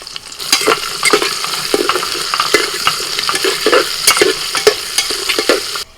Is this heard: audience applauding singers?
no